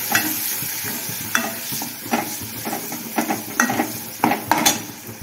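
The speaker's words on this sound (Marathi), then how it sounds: "प्रवीण मसाला, हे चांगलं हलवून घ्यायचं." A spoon stirring masala into an eggplant curry in a pan, with a series of distinct scraping strokes over a soft sizzle, spaced irregularly and growing busier toward the end.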